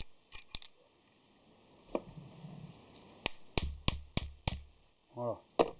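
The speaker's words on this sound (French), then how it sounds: "pour le sortir, bien sûr, il faut mettre un chasse de l'autre côté" A drift punch is hammered to drive a machine taper out of its spindle, giving a series of sharp, ringing metallic hammer strikes at irregular intervals, close and distinct, with brief rattling near the end.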